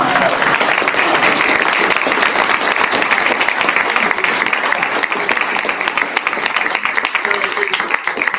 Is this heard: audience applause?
yes